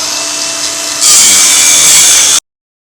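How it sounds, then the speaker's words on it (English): An angle grinder cuts loud and close across a thin welded-on stainless steel lip on a mixer wagon, a steady high whine that swells sharply partway through before stopping abruptly. "Just come right across here with the grinder, and we'll peel that lip off of there"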